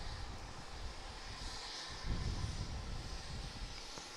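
A fully loaded passenger airplane takes off at Dallas Love Field, using the whole runway. A loud, steady roar of jet engines holds for several seconds with no talking.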